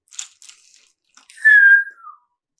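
A single slow whistle rising into a sustained, gently falling tone for about half a second, preceded by soft rustling, with no talk.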